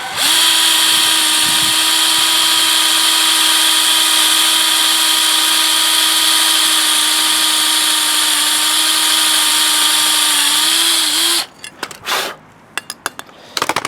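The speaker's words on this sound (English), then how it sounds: "I'm just going to drill it with the 1/8 drill bit." A power drill with a 1/8-inch bit whines at a steady pitch for about eleven seconds, loud and close, then cuts off, followed by a few clattering knocks.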